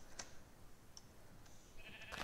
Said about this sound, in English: Okay, I hear sheep.